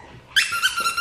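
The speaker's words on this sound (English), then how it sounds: "This little elf guy, it squeaks." A squeaky elf-shaped dog toy gives a sharp, high squeak followed by a few quick wobbling repeats, loud and close, with a dog's faint growl low underneath.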